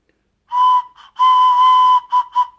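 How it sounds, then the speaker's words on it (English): A homemade whistle gives several shrill, steady blasts with a short toot, a long sustained blow, then two quick bursts, close and loud with no talking. "Like a homemade whistle."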